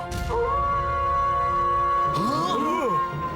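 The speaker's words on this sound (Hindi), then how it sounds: "नई रिंगटोन।" A melodic phone ringtone plays, a sustained electronic tone followed by quick warbling, bouncing notes.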